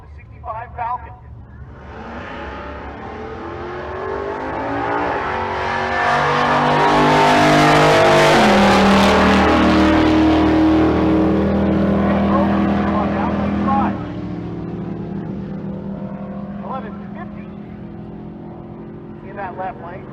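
At a drag strip, a 1966 Plymouth Fury and a 1965 Ford Falcon race: engines build from idle into a loud, roaring pass that peaks and fades, with an announcer talking over it.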